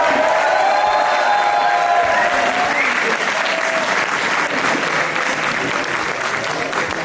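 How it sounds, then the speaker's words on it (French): Loud, dense applause with some cheering fills the room for a performer at an open-mic stage night, sustained for the whole stretch and tapering slightly at the end. "D'applaudissements pour Chacha"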